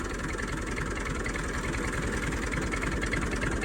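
A tractor engine with a sprayer attached runs steadily in first gear, a constant loud, close chugging drone with a fast regular pulse and no break.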